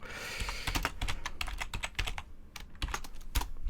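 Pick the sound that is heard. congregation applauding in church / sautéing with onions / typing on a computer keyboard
typing on a computer keyboard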